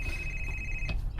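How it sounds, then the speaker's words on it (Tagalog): A cellphone rings with an incoming call, a steady high electronic tone that holds for most of the moment and then cuts off, heard over a loud, noisy room background. "Cellphone? May nanawag."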